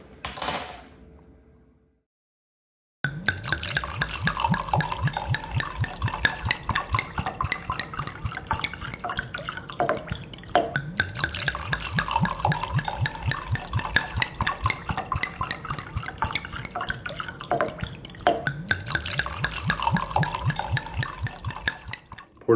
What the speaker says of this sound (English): Poured myself a glass